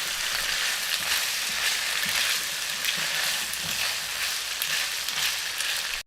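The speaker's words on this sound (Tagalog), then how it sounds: "Stir fry." Udon noodles stir-frying in a pan, a steady close sizzle that hisses continuously with soft scraping and tossing sounds underneath, no voices.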